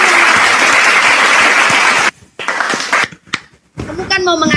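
A room full of people claps briefly and loudly for two seconds before the applause cuts off, followed by scattered noises, talk and a few more claps.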